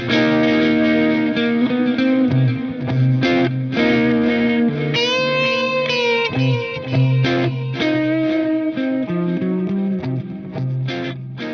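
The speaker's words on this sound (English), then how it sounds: "turn your Axe FX3, your FM9, or your FM3 to preset number 352, Reverb DYNAMIX" Electric guitar through an Axe-Fx III on the Reverb Dynamix preset, loud distorted chords and sustained single notes with lush trailing reverb, played alone.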